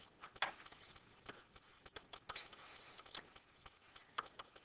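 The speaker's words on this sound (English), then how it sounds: "So I'm going to write down" Pencil writing on paper in short, faint scratching strokes with small pauses between them, close and quiet with no talking.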